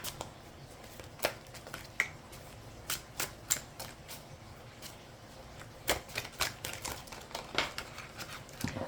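Tarot cards are shuffled and tapped in quick, crisp bursts, riffling clicks scattered irregularly over faint background hiss.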